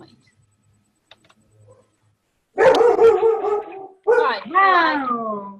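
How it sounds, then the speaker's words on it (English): A pet dog barking indoors after a quiet stretch, a few close, loud yelps and a drawn-out whining bark, with a person speaking briefly over it. "Okay, that's my dog."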